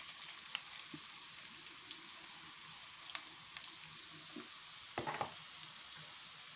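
Tomato puree frying in a pot for Jamaican brown stew chicken, a faint continuous sizzle with scattered soft pops and a short louder burst of spattering toward the end.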